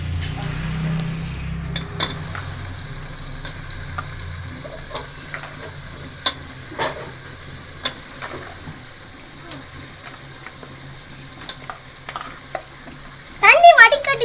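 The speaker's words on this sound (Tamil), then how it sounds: "ஒரு கிலோ நாட்டுக்கோழி இப்போ இதில் கொட்டிக்கலாம்." Country chicken, a kilo of it, frying in a pot of oil and spices for village-style biryani: a steady broadband sizzle throughout, with scattered clinks of a ladle against the pot and a brief louder clatter near the end.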